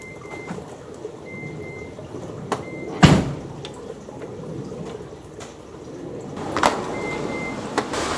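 Inside a Toyota Hiace van, a driver climbs into the seat and the door shuts with a heavy thump, followed by a second solid bang later and small rustling and clicks between, no talk.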